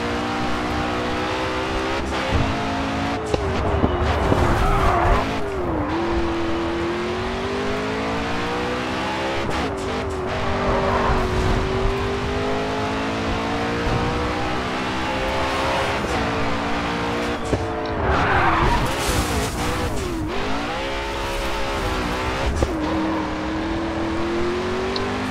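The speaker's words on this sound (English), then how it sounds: "I did donuts while going around a corner." A racing car in GRID 2 spins through donuts around a corner, its engine revving loud and steady with pitch sweeping up and down while tires squeal across several skids, heard alone throughout.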